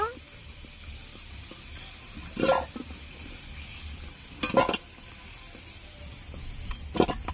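Fried potatoes are scooped and turned in a pan, a low steady sizzle running underneath while three short scraping clatters of a utensil against the pan stand out at intervals.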